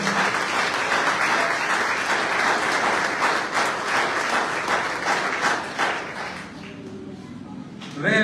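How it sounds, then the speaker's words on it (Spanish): A church congregation applauds during a Sunday morning service, steady dense clapping filling the room for most of the stretch before thinning out near the end, with voices mixed underneath. "Dale un aplauso al Señor."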